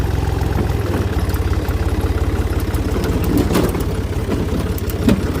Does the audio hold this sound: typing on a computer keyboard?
no